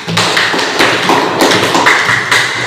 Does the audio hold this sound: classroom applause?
yes